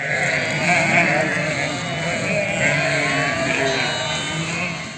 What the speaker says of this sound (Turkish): ağıllar dünyaya yeni gelen hayvanların sesleriyle şenleniyor